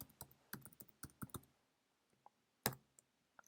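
Bursts of quick keystrokes on a computer keyboard, typing text into a spreadsheet formula, then a pause and a few scattered final taps and a firmer key press, close and fairly quiet.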